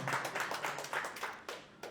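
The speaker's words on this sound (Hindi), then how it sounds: "एक बार जोरदार तालियां बजा दीजिए" At the start of a stage program, a few people clap faintly in a loose, irregular rhythm of distinct hand claps, with nobody speaking.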